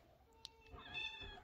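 A single soft cat meow, short and quiet, close by.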